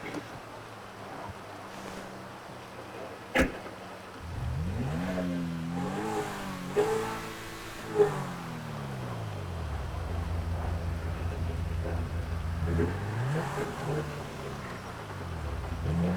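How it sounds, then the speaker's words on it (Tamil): A Lamborghini-style car in the GTA video game on PS5 revs its engine in several rising and falling sweeps, loud and close, over a steady low ambient rumble. "வண்டி இன்ஜின் சவுண்ட் அவ்வளோ சூப்பராக இருக்கு"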